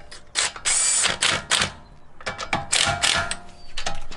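A ratchet tightens a car wheel during mounting, giving loud, close bursts of rapid clicking that come in several runs with short pauses between them.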